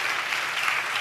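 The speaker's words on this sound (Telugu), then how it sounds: "చప్పట్లు కొడుతూ దేవునికి స్తోత్రాలు చెప్దాం." A church congregation claps hands together in praise to God, a dense, steady burst of applause filling the whole moment.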